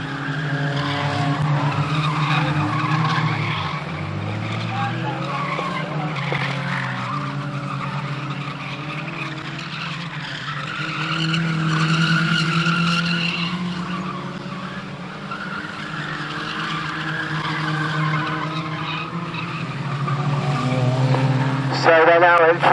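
Race cars at Standlake skid and slide through a corner, one getting tangled up, with engines roaring and tires scrabbling loudly throughout while a commentator talks over the action.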